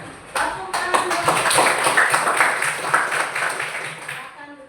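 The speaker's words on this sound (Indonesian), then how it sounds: "Oke, tepuk tangan buat." Classroom applause, a burst of many hands clapping together that swells quickly, stays dense for a few seconds, then tapers off, with voices mixed in.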